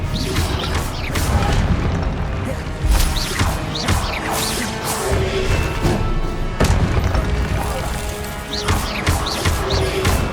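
Fire spells cast in the video game Hogwarts Legacy during a Giant Soldier boss fight, with loud booming bursts and crashing impacts over a constant rumbling battle din, several sharp hits spread across the stretch.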